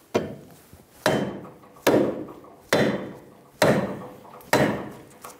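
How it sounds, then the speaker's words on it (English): A soft-face hammer strikes the axle end on a 2000-2007 Ford Focus front hub, six sharp, evenly spaced knocks about a second apart, each ringing briefly before the next, close and loud with no talking. "Using a saw face hammer, we're going to make sure that the axle slides in and out in the splines"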